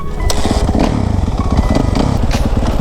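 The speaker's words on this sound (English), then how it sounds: "Sounds like a really quiet bike." A Suzuki RM-Z450 dirt bike engine putts along at low, steady revs, a close, continuous rumble with light clatter and no voices.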